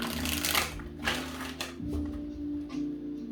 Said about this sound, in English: I'm going to give this 5 shuffles